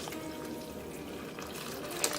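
Ramen stock poured into a bowl of fresh noodles, a steady liquid splashing and filling sound held close and even throughout, with a brief sharper clink near the end.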